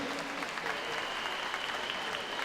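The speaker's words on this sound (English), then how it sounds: "So we could all give a big round of applause to them." An audience applauding at a swimming regionals meet, a steady, moderately distant wash of many hands clapping that holds evenly through the moment.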